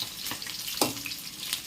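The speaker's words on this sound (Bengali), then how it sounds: "মাছ ভাজছি।" Fish frying in a pan, giving a steady close sizzle with light stirring noises over the whole short stretch, and no talking.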